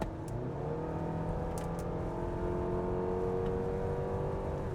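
A Mazda CX-8's naturally aspirated 2.5-liter inline-four pulls steadily under acceleration, its engine note rising smoothly over road and tire rumble across several seconds, heard from inside the cabin.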